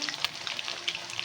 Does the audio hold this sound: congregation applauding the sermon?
no